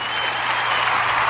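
Short burst of clapping from an audience, steady and even throughout, fairly close and moderately loud.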